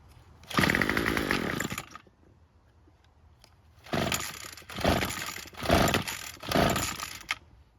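Bolens string trimmer engine being pull-started, with a brief sputtering run and then four short bursts as the engine catches and dies, loud and close, without speech.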